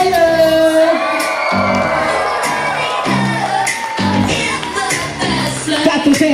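Party crowd at a b'nai mitzvah celebration cheering, whooping and shouting, with an amplified voice and thumping music underneath the loud, continuous crowd noise.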